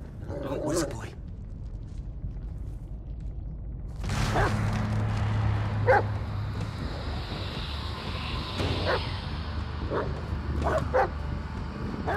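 A dog barks and yips a few times in the Blair Witch video game, short sharp calls scattered over steady ambient noise while someone talks throughout.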